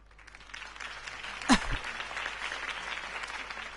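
In the Batman video game episode Realm of Shadows, a crowd applauds Harvey Dent's campaign speech. The clapping is a steady, moderate wash with one sharp, louder knock or thud partway through.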